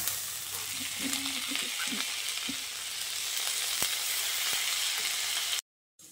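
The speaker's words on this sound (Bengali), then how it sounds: "এবার এই পর্যায়ে ধুয়ে রাখা মুসুর ডালটা দিয়ে দিচ্ছি।" Washed red lentils hit a hot frying pan with a steady, close sizzle and a few soft stirring scrapes, ending abruptly in a brief silence near the end; no voices.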